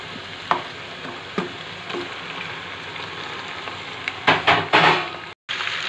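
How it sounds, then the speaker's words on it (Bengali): Mutton hits a pan of reddish-browned onions and melted fat and sizzles steadily, with scattered stirring clatters and a louder burst of spatter near the end, close and without any voice. "এই সময় আমি দিয়ে দেবো মাংসগুলো দিয়ে একটু ভালো করে ভেজে নেব।"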